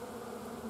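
Honeybees buzz steadily inside a beehive being prepared for winter, a dense, continuous droning hum close up with no other sounds.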